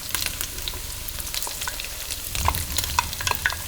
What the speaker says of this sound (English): we're going to dump them right in the center of our pan